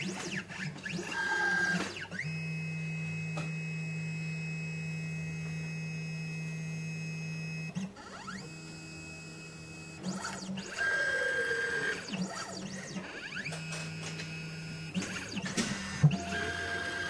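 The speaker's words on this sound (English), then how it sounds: "now we're going to do the calibration on tracer 3" A 3D Xtreme key machine calibrating its tracer 3 gives off steady motorized whirs in several long runs, broken by short clicks and pauses, close and clear with no talking.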